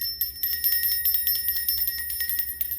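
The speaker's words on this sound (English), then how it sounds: "we're gonna ring this bell" A small bell rings in a quick series of bright, high metallic strikes with sustained shimmering tones, close and alone without any talking.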